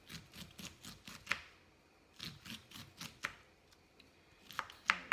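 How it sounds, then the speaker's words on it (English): A knife slices kernels off cooked corn in rapid, uneven bursts of crisp cutting strokes, close and fairly quiet, with short pauses between runs. "I usually just cut off the kernels just like this"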